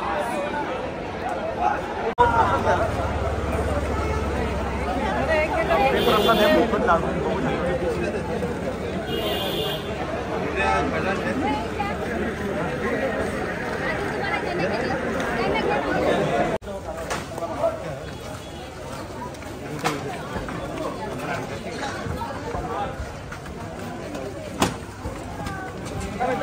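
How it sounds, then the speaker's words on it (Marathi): A packed crowd at the Lalbaugcha Raja darshan in 2024 fills the air with dense, continuous chatter and hubbub from many voices, with a nearby voice speaking over the steady din throughout. "गर्दी जाम गर्दी आहे लालबागला, एकदम फुल क्राउड पॅक आहे."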